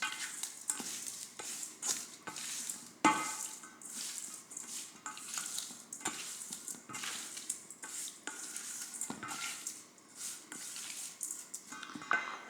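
Tuna poke tossed quickly in a bowl, a run of rapid wet stirring and scraping strokes with a few sharper knocks, close and fairly quiet, no voices.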